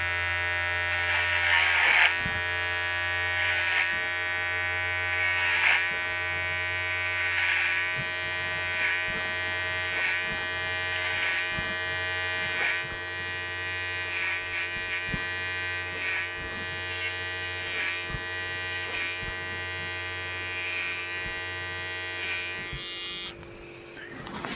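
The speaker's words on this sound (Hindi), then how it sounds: "काफ़ी फास्ट है मोटर इसकी।" VGR V082 electric hair trimmer motor running fast, a loud continuous high-pitched buzz with steady tone and slight rhythmic wavering as it cuts hair, stopping abruptly near the end.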